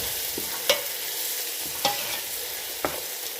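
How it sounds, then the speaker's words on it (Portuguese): Onion and garlic fry in a pan with a steady broad sizzle, broken by a few sharp scrapes of stirring; no talk. "Tô fritando aqui a cebola e o alho."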